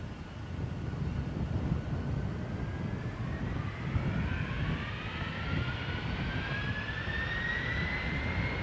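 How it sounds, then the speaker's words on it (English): A Delta jet takes off from runway 10 right at Dublin Airport, a broad steady roar with rising engine whine that holds for several seconds, heard from a distance with some wind buffeting and no voices. "Delta 45, 130 degrees 8 knots, runway 10 right, clear for takeoff"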